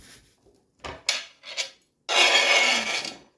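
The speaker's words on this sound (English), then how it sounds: "I'm going to just chop them here" A knife chops green onions on a board, a few separate cuts followed by a longer burst of rapid chopping, close and crisp in an otherwise quiet kitchen.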